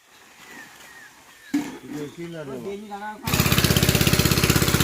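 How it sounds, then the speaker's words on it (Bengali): A machine used for washing work starts up with a loud, steady rhythmic engine chatter that abruptly takes over after a few seconds of quieter background noise and brief voices. "এবার মেশিন চালু হবে আর ওয়াশিংয়ের কাজ চলবে"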